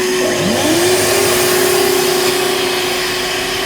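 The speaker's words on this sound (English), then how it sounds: "Start with a small one, takes up to 260, so that's not a lot actually, it's quite an efficient hoover." A small, efficient low-wattage hoover runs on a van's power setup. Its motor spins up with a rising whine, then holds a loud, steady hum close by with no talking.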